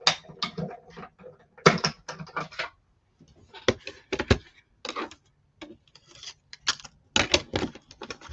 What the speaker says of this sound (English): I'm going to die cut off camera so I'm not bringing it right in your face.